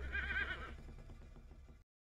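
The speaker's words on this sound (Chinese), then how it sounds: "突然高亢的马嘶声传来，伴随着惨叫声" A high-pitched horse whinny rings out loudly as an audiobook sound effect, then trails off into a series of fainter rhythmic pulses before cutting to silence.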